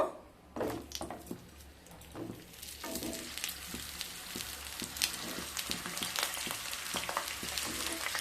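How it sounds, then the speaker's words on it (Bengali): Potato and pointed gourd pieces fry in mustard oil in a kadai over a medium flame, a faint sizzle that builds into a steady crackling hiss with scattered pops and stirring sounds, and no talking. "আলু আর পটলগুলোকে ভেজে নেব।"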